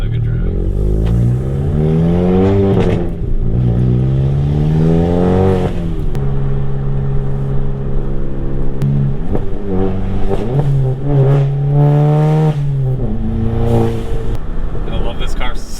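A car engine revs and accelerates repeatedly, rising and falling in pitch through gear changes, loud and close from inside the vehicle, with no talk over it.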